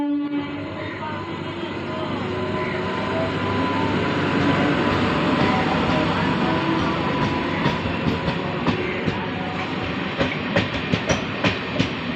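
A Howrah–Purulia passenger train via Masagram and Bankura rumbles past on the rails, loud and steady, with rhythmic clacking of wheels growing sharper toward the end.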